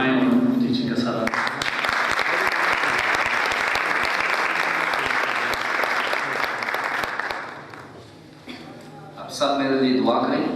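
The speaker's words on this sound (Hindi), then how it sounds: "आपकी तालियों में मैं रिक्वेस्ट करूँगा खुदा के खालून वसीउल्लाह खोखर साहब से कि वो आएँ" An audience at a church gathering breaks into loud, sustained applause that fades after several seconds, with a voice speaking before and after it.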